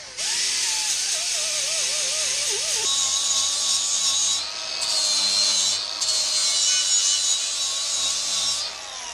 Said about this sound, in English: we're gonna go forward with a sander and hopefully polish this up